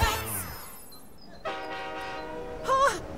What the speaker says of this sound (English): Oh, here comes our bullet train!